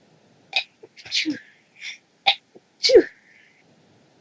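A single sharp sneeze stands out among a few short vocal bursts from people nearby, against a quiet background.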